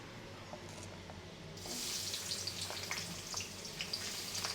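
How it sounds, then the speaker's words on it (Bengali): Chopped onion drops into hot oil in a kadai and starts a steady, close sizzle that jumps up after a quieter start and keeps hissing evenly to the end. "এখন ভালো করে পেঁয়াজটা লাল লাল করে ভেজে নেব"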